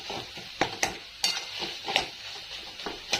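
Steamed jackfruit vegetable with sesame-peanut powder is stirred in a pan: a spoon scrapes and taps in a quick, irregular rhythm over a faint sizzle, close and clear.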